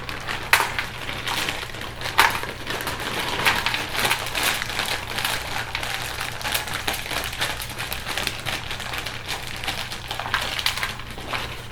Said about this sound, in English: I'm gonna dump it on the tray